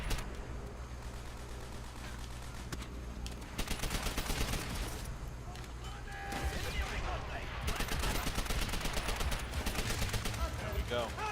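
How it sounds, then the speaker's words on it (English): Rapid automatic gunfire from an MP40 submachine gun in Call of Duty: World at War, fired in repeated bursts with dense cracking shots amid battlefield noise, fairly loud and continuous through most of the stretch. "Quick little burst fire, and you can get off a good long range kill."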